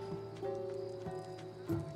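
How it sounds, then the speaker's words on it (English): A horse in the video game Assassin's Creed Odyssey clops along with a few soft, evenly spaced hoof strikes over a steady low game background hum. "I'll get back Megacles's Stallion"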